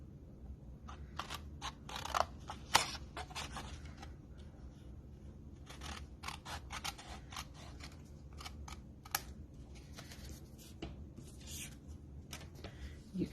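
Scissors trim the edge of pretty decorative paper in a crafting session, a run of small snips and paper rustles close by, irregular and crisp, with a quiet voice now and then.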